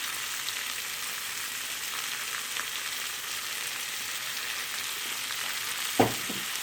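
Hachis parmentier filling seasoned with salt, pepper, herbes de Provence and parsley is stirred in a frying pan, a steady close sizzle running throughout, with a single sharp utensil knock near the end and no talking.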